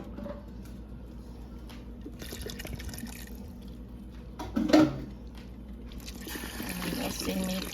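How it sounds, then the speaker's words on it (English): Bottled water poured over potatoes in a cooking pot, a soft continuous trickle and splash under light background noise, swelling briefly near the middle. "So we're going to start pouring the water."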